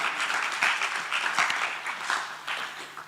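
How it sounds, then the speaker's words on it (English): Conference audience applauding at an international music and performing arts event: a dense, steady wash of many hands clapping together, fairly loud and sustained for the whole stretch, with no voices over it. "Let us give a better applause for that conclusion."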